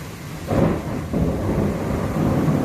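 Deep rumbling thunder rolls through steady heavy, windy rain in China, swelling after a moment and sustaining as a low, continuous roar.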